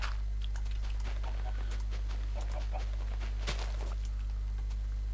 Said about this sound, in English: Chickens, come back here!